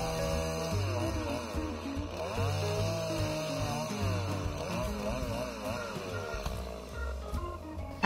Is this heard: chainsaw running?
yes